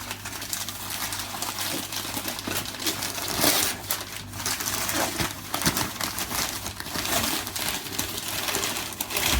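Wooden bobbins for an Ashford spinning wheel clatter and knock as they are handled, a series of light, close taps and rattles over a steady background hum.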